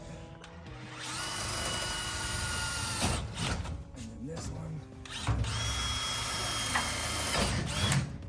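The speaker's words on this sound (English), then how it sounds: "I'm trying to drill these holes so I can connect these two together." A power drill whirs in two long bursts nearby, its pitch rising as it spins up, with a person speaking briefly between runs.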